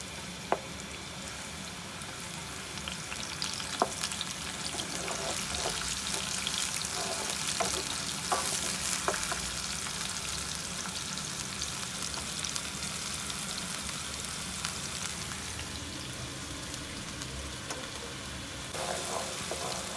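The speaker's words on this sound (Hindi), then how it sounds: "अब हम इसमें ये प्याज और हरी मिर्चें जो हमने पीस के रखी थी इसमें डाल के इसको फ्राई कर लेते हैं हल्का।" Continuous bright sizzling of ground onions and green chilies frying in hot oil in a pan for Peshawari namkeen beef gosht, steady and fairly close, with occasional stirring scrapes and clicks.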